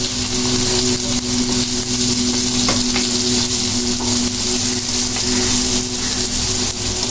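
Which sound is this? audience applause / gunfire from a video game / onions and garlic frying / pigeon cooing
onions and garlic frying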